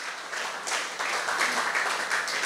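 A church congregation applauds in a steady, dense patter of clapping that carries on throughout, with no talking.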